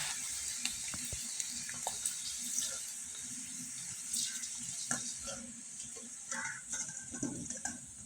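Watermelon rind chips frying in oil make a soft, crackling sizzle with scattered pops and small clinks, fairly quiet and continuous.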